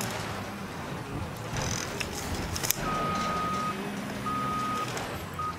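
A truck reverses in Mafia 3, its electronic reversing beep sounding in two sustained stretches over a rough engine rumble and mechanical clatter.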